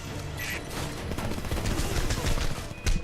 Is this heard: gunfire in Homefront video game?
yes